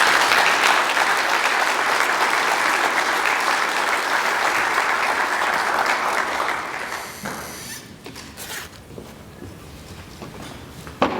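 An audience claps loudly and steadily at a Black History Month celebration, the dense applause fading out after about seven seconds into a quieter room with scattered sounds.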